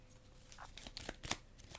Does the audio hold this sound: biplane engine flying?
no